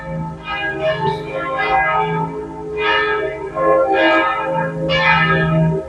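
Church bells ring in repeated, resonant peals, each strike swelling and decaying, heard clearly and fairly close with no voices.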